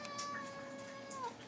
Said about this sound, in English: that's her dislike meow.